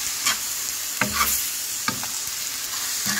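Steady sizzling from a hot pan with intermittent scraping and tossing as kimchi tuna pasta with ketchup is stir-fried, a constant hiss underneath.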